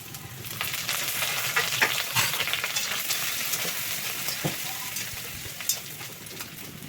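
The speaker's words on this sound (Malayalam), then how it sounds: "ഇനി എണ്ണയിലേക്ക് ചെറുതായി അരിഞ്ഞെടുത്തിട്ടുള്ള വെളുത്തുള്ളിയും ഇഞ്ചിയും പച്ചമുളകും കുറച്ച് കറിവേപ്പിലയും കൂടി" Minced garlic, ginger, green chillies and curry leaves fry in hot coconut oil, giving a steady, dense sizzle with crackles and occasional louder pops, close and continuous with no talking.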